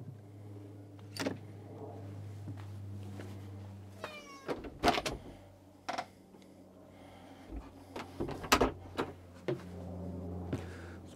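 A cat on a Norwegian farm meows a few times amid car door thumps, a power window whirring and other rustling and clunking noises, at a moderate distance.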